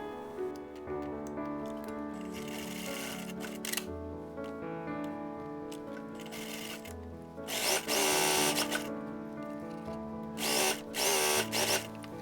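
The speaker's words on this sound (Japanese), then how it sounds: "脇から袖下を縫います。" Sewing machine stitching the underarm and sleeve seam of a blouse, running in bursts of rapid mechanical whirring with short pauses between, close and loud, with no talk.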